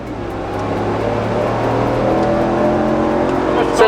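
A 2020 Dodge Ram 1500 Rebel pickup with a V8 engine accelerates, its deep engine note rising steadily in pitch and loudness over a few seconds, with faint voices inside the cab.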